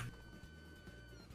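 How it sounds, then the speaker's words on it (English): A cat meows from inside a box in a video game, a single clear meow that holds steady for over a second against a constant game background hum. "It is a cat in a box."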